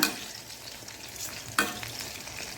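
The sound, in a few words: chicken pieces being turned while frying in a pan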